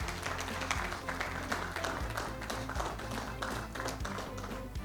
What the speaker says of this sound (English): So please, a round of applause to our supporters.